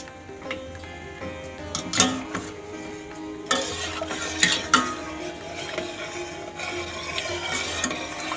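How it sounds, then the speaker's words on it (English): Custard made from custard powder dissolved in milk is stirred in a pan, producing light, irregular scraping and ticking clicks of a utensil against the pot, close and fairly quiet with no talk. "Keep on stirring your custard until it's nice and"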